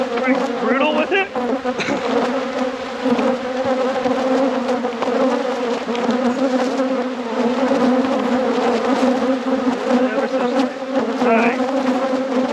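Honeybees packed into an opened hive during a deep inspection after winter, with a dense, continuous close-up buzzing and droning that holds steady throughout.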